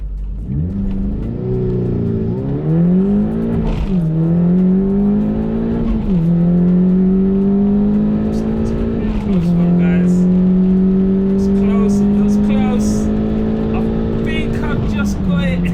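Golf GTI Edition 30 cars launch down a drag strip at Santa Pod, engines loud and near, climbing in pitch through several gear changes with steady roaring acceleration throughout.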